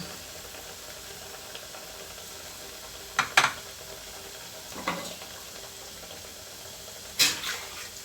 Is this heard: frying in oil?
yes